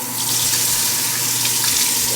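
Water pours from a tap into a sink in a steady, close, continuous rush with a faint hollow ring from the basin, alone with no talking.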